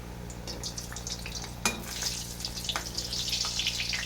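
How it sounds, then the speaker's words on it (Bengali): Soft, steady sizzling of food frying in oil on low heat, with occasional clinks and scrapes of stirring over a low background hiss. "এগুলো হালকা আঁচ দিয়ে ভাজতে হবে"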